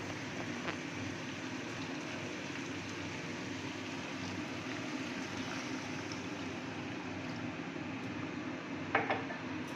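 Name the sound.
water being poured into a cooking pot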